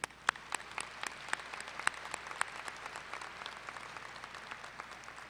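Scattered applause rises from a large crowd at the Texas A&M-Corpus Christi 2017 spring commencement. It holds at a steady moderate level, with a few sharp nearby claps standing out from the distant wash of hands.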